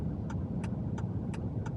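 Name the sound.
truck driving while pulling a trailer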